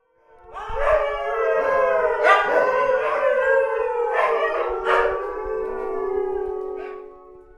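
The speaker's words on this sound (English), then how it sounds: "Hook-up time for the dogs is a particularly noisy time." Sled dogs at hook-up time break into a chorus of overlapping howls, rising and wavering together for several seconds, clear and fairly close, with no talking.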